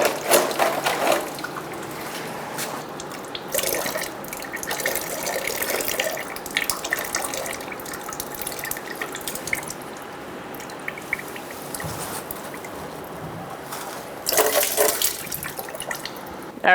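Coolant drains from a 2014-2018 Subaru Forester radiator into a drain bucket, a steady close splashing and trickling stream that runs continuously, with brief louder gushes near the start and end.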